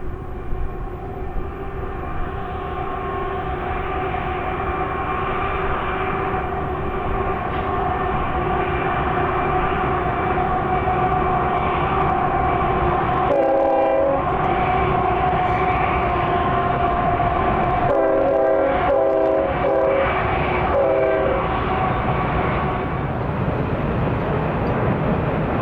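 A southbound freight manifest train passes steadily and loudly on the Black Butte Subdivision near Mt. Shasta. Midway its horn sounds in one long blast, then a series of shorter blasts, over the constant rumble of the cars.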